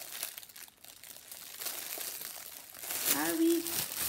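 A small paper message packet is torn open along its side, giving a brief, close crinkling and ripping burst near the end after quieter rustling.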